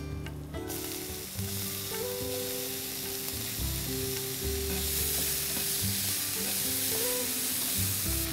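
Chopped zucchini flesh sizzles steadily in a pan with cumin and grated ginger, a constant loud fry with occasional stirring and no voices.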